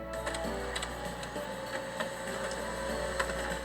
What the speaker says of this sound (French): On a un vrai bruit d'imprimante, c'est le fun.